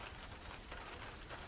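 Rain pours down outdoors in Buckinghamshire, England, a close, constant hiss and patter that holds at a steady loudness without any voices.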